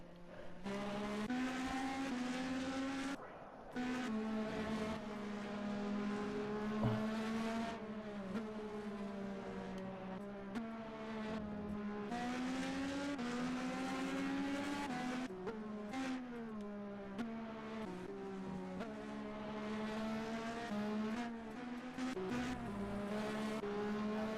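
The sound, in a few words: Formula B race cars crossing the finish line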